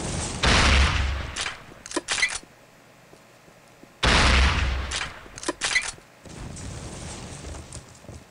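Grenades burst in Postal 2, two heavy booming blasts a few seconds apart, each followed by scattered crackling debris and sharp pops, with a lingering noisy rumble at the end.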